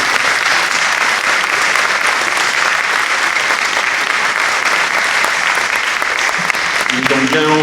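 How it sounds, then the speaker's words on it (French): Audience applauding the choir and musicians after a parish mass at a church fair, steady dense clapping throughout, loud and close, with a few voices near the end. "Vous pouvez les applaudir"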